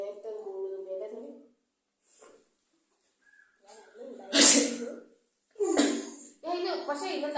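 A sneezing challenge brings sharp, close sneezes. Talking comes first, then a loud sneeze bursts out, followed by another sneeze-like burst and more voices, including what sounds like a child.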